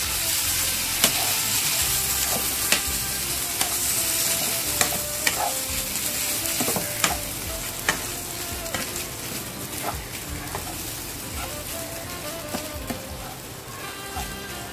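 Whole pre-boiled clams sizzle in a frying pan as a utensil stirs them, with steady frying hiss and repeated sharp scrapes and clinks close by.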